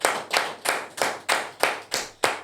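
Slow, regular claps ring out one by one, about three per second and fairly close, each with a short decay, in a round of applause for a performer. No voices are heard.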